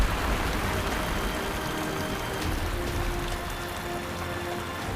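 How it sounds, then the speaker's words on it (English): Torrential thunderstorm rain pours down on the Serengeti grasslands, a dense, even hiss of heavy drops that holds loud and steady throughout, with no voices. "they grow into massive thunderclouds until they burst in a torrent of rain"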